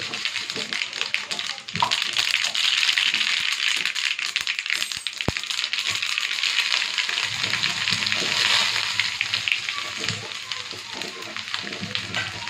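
Sesame seeds spluttering in a hot oil tempering for rava dhokla make a dense, continuous crackle and popping that stays loud and close for the whole stretch, with no talking.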